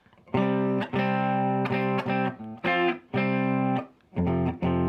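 A clean electric guitar strums a series of open power chords, each ringing briefly before short pauses, with a rich harmonic tone and no distortion.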